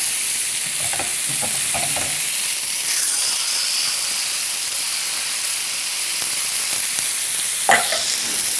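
Tandoori lamb chops sizzling fat side down on a hot flat pan, a loud, continuous frying hiss with occasional spits and pops, heard alone without voices.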